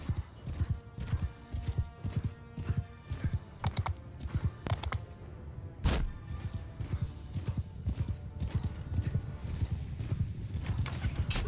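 Cavalry horses gallop in the Bannerlord video game, a busy rhythmic clip-clop of many hooves with a sharp impact midway and a horse whinny, no talking.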